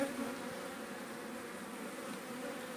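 Honeybees buzzing around an open beehive during hive maintenance, a continuous close drone of many wings with a steady tone, no talk over it.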